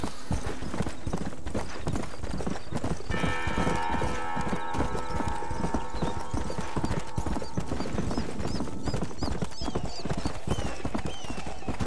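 Horses clip-clop in the Red Dead Redemption video game, with brisk rapid hoofbeats throughout, a brief whinny-like tone and faint bell-like chimes in the middle.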